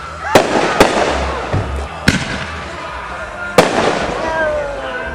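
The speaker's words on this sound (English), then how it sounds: "Shooting the fireworks with the plastic gun so we can stay safe." Fireworks and firecrackers set off at close range, sharp loud bangs at irregular intervals with crackling tails and a few softer thuds between them.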